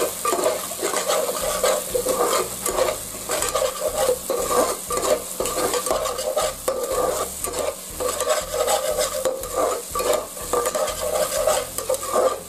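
Eggs fry in a pan while being stirred, with a steady sizzle cut by rhythmic scraping strokes repeating about every half second, close and fairly loud, with no talking.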